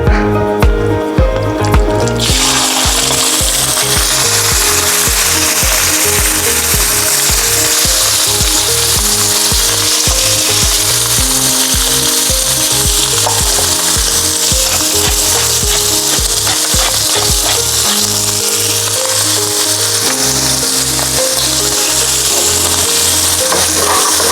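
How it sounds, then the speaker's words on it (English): Continuous loud sizzling of liver pan frying in a wok, with steady clattering and scraping of a utensil stirring throughout, no talking. "Now on the same wok, we're also going to be pan frying our liver."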